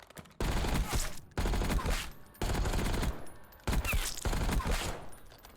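Fully automatic fire from a gun in Black Ops 6 comes in four loud sustained bursts, each about a second long, separated by short pauses, close and dominant.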